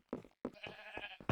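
Sheep in the Minecraft video game bleating in several short, fairly loud calls separated by brief pauses, heard up close with no talk over them.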